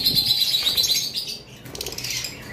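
A pair of caged lovebirds makes quick high chirps close by. Soft wing flutters and shuffling come through between the calls.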